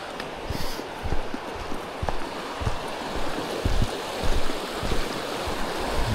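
Rockingham Creek flowing in Mount Robson Provincial Park on a day hike: a steady, moderately loud rush of water with soft, irregular low thuds mixed in and no voices.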